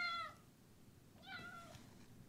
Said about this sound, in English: That must be the cat.